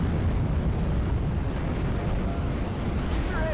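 Artillery shelling in the Steel Division: Normandy 44 World War II strategy game during a 3v3 battle at Collombelles: a continuous dense rumble of distant explosions and booms, steady and loud throughout with no clear gaps.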